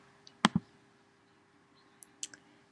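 A computer mouse clicks on a quiet desk: a close double click, then a couple of lighter clicks a moment later, faint and with no talking.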